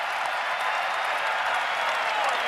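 A capacity crowd in a basketball arena at a Wizards–Magic game reacts to Michael Jordan, a steady, dense roar of voices and clapping filling the whole moment.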